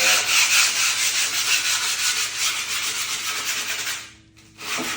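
Old shoe rubbed back and forth along the edges of skateboard griptape, a loud close gritty scraping in rapid strokes, pausing briefly near the end before resuming.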